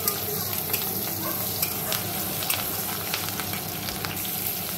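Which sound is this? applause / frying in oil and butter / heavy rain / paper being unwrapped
frying in oil and butter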